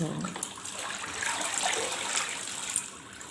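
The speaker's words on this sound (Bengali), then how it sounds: "জামা কাপড়গুলো কাঁচা হয়ে গেছে এবার হচ্ছে ধোয়ার পালা" Clothes being hand-washed and rinsed in soapy water, with continuous close splashing, sloshing and dripping throughout and no clear speech.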